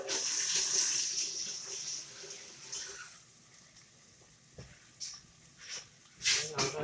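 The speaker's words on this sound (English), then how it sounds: "we're going to add some more water in here" Water runs into a cooking pot on the stove, a loud steady splash at first that thins into quieter trickles and drips, with people talking in the background.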